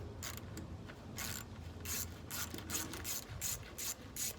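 Close, fairly quiet ratchet with an 8mm socket loosening a radiator hose clamp on a 2003 Nissan Sentra, a quick series of sharp ratcheting clicks in uneven bursts.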